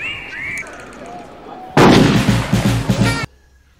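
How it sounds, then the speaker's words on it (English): A gunshot from a 1992 crime drama rings out as a sudden loud crack with echoing rumble, preceded by quieter film dialogue and fading abruptly after about a second and a half. "That was a gunshot."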